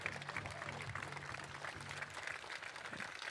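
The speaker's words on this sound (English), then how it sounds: "So big round of applause for Amukto First Nation Hoka." Faint, continuous clapping from a crowd at a pavilion grand opening, applauding powwow dancers from a First Nation, heard at a distance for a few seconds.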